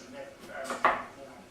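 A knife cuts potatoes in half in a home kitchen, giving a single short slicing scrape followed by a sharp thunk against the board, heard close and quiet amid faint background sound.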